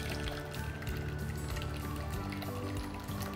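Mung bean porridge, bubur kacang koa, is poured into serving containers, a soft continuous thick liquid pour and trickle heard close and quiet.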